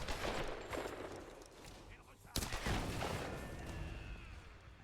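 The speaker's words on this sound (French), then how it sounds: "Bah là, il y a eu une explosion." Gunfire and an explosion from the Tomb Raider video game: dense, rapid shots rattle throughout, and a sharp, loud blast cracks out midway through the steady din of combat.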